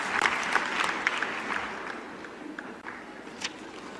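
An audience at a large IIT event applauds together, a broad wash of clapping that is strongest at first and then thins out, with a few sharper claps near the end.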